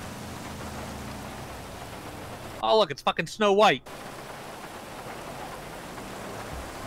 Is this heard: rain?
yes